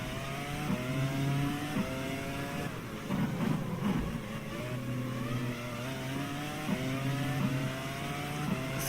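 A Formula 1 car's engine rises through repeated gear upshifts as it accelerates out of Ascari at Monza in a racing game, a loud, continuous whining note climbing in pitch with brief shift dips.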